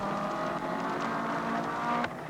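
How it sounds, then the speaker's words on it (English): A race car at the 1981 Bathurst race, the Queensland entry, backfires as it runs, giving a steady loud engine drone broken by a couple of sharp pops. "The Queensland car in front, he's backfiring unbelievably."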